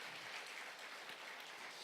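A church congregation applauds, a dense steady wash of clapping from many hands at low level throughout.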